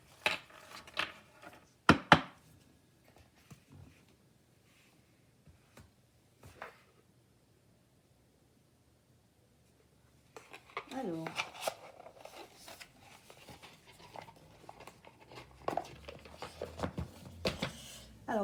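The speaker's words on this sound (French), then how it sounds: "Maintenant, je vais tirer les cartes pour" Oracle cards are handled and drawn in a few sharp, close snaps, then a long stretch of steady riffling and slapping shuffles, with quiet pauses between.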